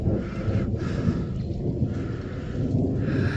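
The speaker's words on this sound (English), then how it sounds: "And the storm's about past us." Low rumbling thunder from a passing thunderstorm on the Appalachian Trail, a broad steady roll with wind and rain noise close to the microphone, continuous throughout and no talking.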